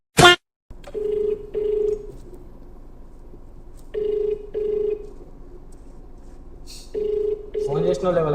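A phone call connects and rings out: a brief burst at the start, then a steady pattern of paired ringback tones repeating at regular intervals over a quiet line, with a short burst of a voice at the very end.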